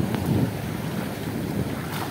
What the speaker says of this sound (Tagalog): Medyo malakas na ang hangin